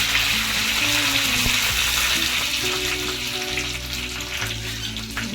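Curry leaves dropped into hot oil with browned crushed garlic crackle and sizzle loudly and steadily, close up, with a bright spitting hiss throughout and no talking.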